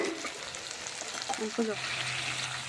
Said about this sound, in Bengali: এবার আলুগুলো দিয়ে খুব ভালো করে ভেজে নেব